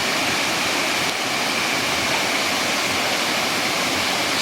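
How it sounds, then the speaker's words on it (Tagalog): Steady rushing water flows continuously, a dense broadband wash like a stream or small falls close by, with no voices over it. "Batis na batis, oh."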